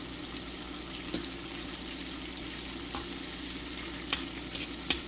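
Kirkland Signature garlic butter shrimp fry in a pan with a steady, close sizzle, broken by a few soft clicks of stirring across the stretch.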